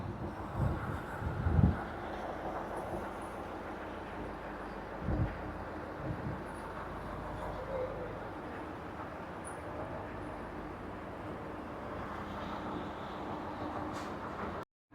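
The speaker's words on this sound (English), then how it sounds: "So here's the diesel rail car, which is going to take us to Stony Point." A diesel rail car waits at a platform on the Stony Point line, giving a steady low idling rumble with a few louder knocks and thumps near the start, under wind.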